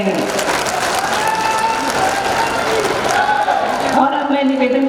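A large crowd of women applauds to welcome the chief minister at the Ladli Behna conference in Shujalpur: loud, dense, continuous clapping with a voice speaking over it near the end.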